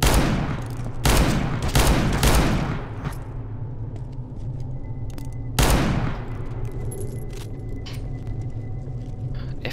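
Revolver gunfire in CS:GO on a custom haunted map: three sharp, loud shots in quick succession, then a fourth after a pause, each followed by a fading echoing tail over low background rumble.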